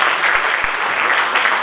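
Audience at an Italian cabaret comedy show applauding, a dense, steady burst of clapping from a full room that fills the whole short moment with no break.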